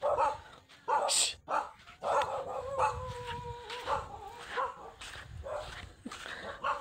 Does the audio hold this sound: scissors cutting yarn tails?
no